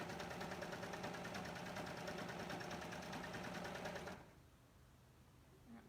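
A sewing machine runs steadily while gathering thick dress fabric, giving a close, fast, even mechanical whir for about four seconds before it stops and leaves only faint room noise.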